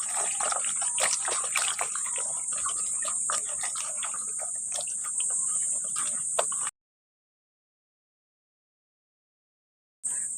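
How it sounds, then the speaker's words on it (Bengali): Cut pointed gourds (potol) are washed by hand in water, giving close splashing and sloshing with a steady high insect-like whine over it, then a sudden gap of silence before the sound briefly resumes. "আপনারাও কিন্তু পটলগুলোকে ভালো করে ধুয়ে নেবেন।"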